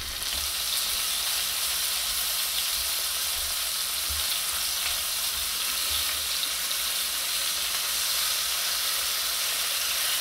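Quail browning in a hot skillet for quail marsala, a steady even sizzle and frying hiss running throughout, close and fairly loud with no voices over it.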